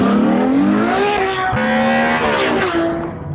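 A Ferrari 812 Superfast sports car drives with a loud, close engine note whose pitch climbs and falls through several gear changes, with a brief shift break in the middle.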